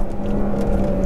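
A Volvo V60 pulls away slowly with its remote exhaust valves open, giving a steady, close, deep droning hum that holds level for the whole moment.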